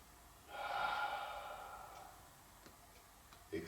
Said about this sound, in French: On va inspirer par le nez.